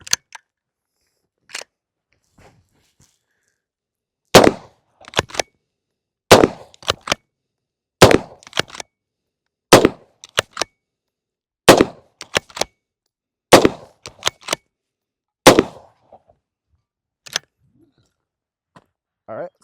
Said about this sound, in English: Yes, I did fire 6 rounds.